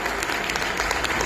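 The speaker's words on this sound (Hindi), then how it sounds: "जोरदार तालियां।" A brief burst of loud applause from the audience at a stage play for Agrasen Jayanti, a dense wash of many hands clapping together, steady and continuous.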